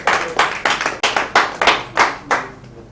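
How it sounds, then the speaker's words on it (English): A small group claps for a guest at a live-streamed event, about ten sharp, separate hand claps in a loose, uneven rhythm, close and clear with no voices. "Please, a round of applause for him."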